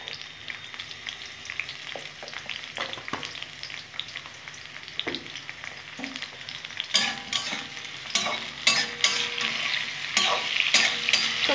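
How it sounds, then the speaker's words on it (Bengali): Eggplant pieces frying with turmeric in a pan crackle and hiss steadily, with scattered sharp pops and spatula scrapes that grow louder and busier toward the end; no talking. "একটু আমি হলুদ দিয়ে ভাজবো"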